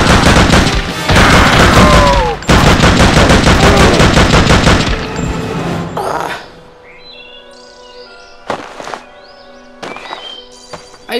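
Video game gunfire crackles in loud, rapid bursts for several seconds. It then drops away to a quieter scene with a few isolated sharp shots and ringing tones.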